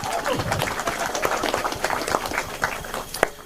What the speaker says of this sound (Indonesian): Aplaus lagi untuk Mbah Behi